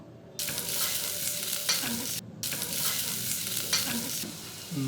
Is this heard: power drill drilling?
no